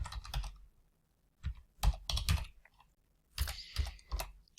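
Close, quiet keystrokes on a computer keyboard while entering a value into an Excel spreadsheet cell, coming in short bursts of rapid clicks separated by brief pauses.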